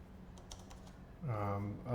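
Keys clack on a mechanical keyboard fitted with blank ceramic keycaps: a few faint taps, then a louder burst of typing near the end, with quiet talk in the background.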